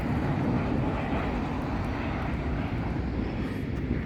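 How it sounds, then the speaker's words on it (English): An airplane coming in produces a steady, loud broadband engine roar that holds without breaks, a continuous aircraft rumble with no voices over it. "There's a plane moving."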